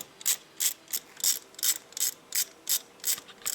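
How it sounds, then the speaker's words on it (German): A hand ratchet tightens the regulator onto the intake manifold of a Porsche 911 Carrera 3.2, nine evenly spaced clicking bursts of pawl ticks, close and crisp, with no talking. "dann schrauben wir den Regler zuerst mal an den Krümmer."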